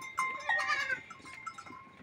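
Goats and sheep with small lambs on a farm, giving a few short, fairly close bleats over quiet outdoor background, with no talking.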